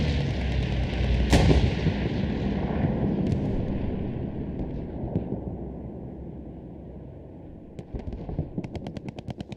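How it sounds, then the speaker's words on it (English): A bombing run in the World War II game Hell Let Loose during a German D-day counterattack, with heavy explosions booming and rumbling across a battlefield, sharp blasts early, then trailing roar and a late burst of rapid gunfire. "Airhead plus bombing run on the north side"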